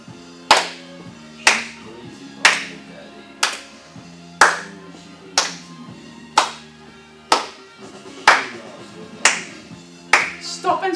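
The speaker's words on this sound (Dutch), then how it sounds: "Stop en klap." Sharp hand claps land one by one at a steady, roughly one-per-second rhythm during an exercise routine, loud and close over a soft background tone.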